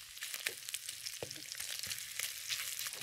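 Beef pieces browning in a pan for chop suey stir fry crackle and sizzle steadily with quick popping spatters, close up and fairly soft.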